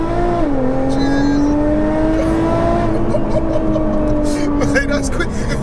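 An 820bhp hybrid turbo Nissan GTR accelerating, heard from inside as a loud sustained engine drone rising steadily in pitch, with a brief voice near the end.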